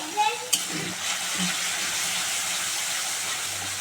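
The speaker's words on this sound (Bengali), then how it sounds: "ভালো করে মশলাটা কষে নেব" Green chili paste, salt and turmeric sizzle in a hot pan as the spices are sautéed. A steady, loud frying hiss runs throughout, with a couple of sharp clinks near the start.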